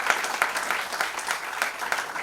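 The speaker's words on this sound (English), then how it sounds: "A huge round of applause for him" Modest applause from the audience at a book launch event, a thin patter of clapping with a few distinct rhythmic claps standing out, moderately close and steady throughout.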